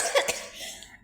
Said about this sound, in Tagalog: Ubo lang.